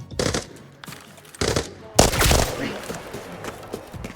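Gunfire in the tactical shooter Arena Breakout Infinite: short bursts of automatic fire, then a longer loud volley with echoing shots, with a voice talking in between.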